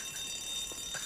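A heist alarm in the Grand Theft Auto 5 video game rings as a steady, high continuous tone over faint background noise, with no voices.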